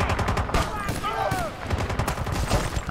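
Rapid automatic gunfire from an AK rifle in the Battlefield Bad Company 2 video game, dense bursts of loud shots crackling over a busy battle din, with other explosions and effects mixed in.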